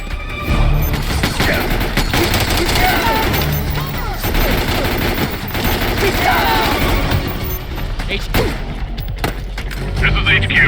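Soldiers fire in Metal Gear Solid 4, a sustained fusillade of overlapping shots and booms with voices shouting over the continuous battle noise.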